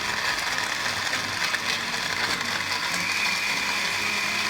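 A Clikon Active blender runs on its first power setting, giving a steady whirring grind with a rattling, mechanical texture and no pauses.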